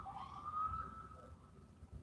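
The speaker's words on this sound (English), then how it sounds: "What would be New York without sirens" A distant emergency vehicle siren wails through New York streets, one rising and falling tone that sits faintly over low city rumble with no voices.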